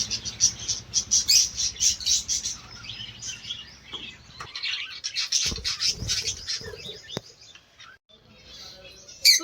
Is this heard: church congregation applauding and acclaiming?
no